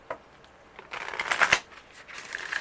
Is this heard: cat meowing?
no